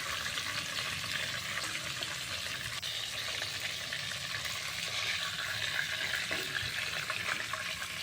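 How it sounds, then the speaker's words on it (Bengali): Whole fish fry in hot oil in a pan, a dense steady sizzle with faint crackles holding evenly throughout, with no voices. "এখন আমি উল্টিয়ে দিচ্ছি অপর পাশে ভেজে নেওয়ার জন্য"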